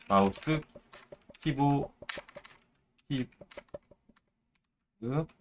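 Keys click in short bursts on a keyboard, scattered taps between stretches of a person speaking close by.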